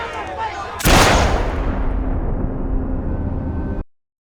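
A single loud gunshot in Battlestar Galactica Razor, an abrupt broadband blast followed by a long decaying rumble and reverberation lasting several seconds.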